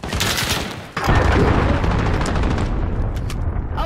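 Missile strike explosion in a video game: a loud boom bursts in suddenly, then rolls into a sustained, heavy rumble with crackling gunfire-like bursts that gradually thin out.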